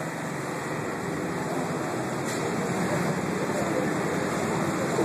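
A 1914 Snow gas engine runs with a steady, dense mechanical rumble and hiss, holding an even level throughout.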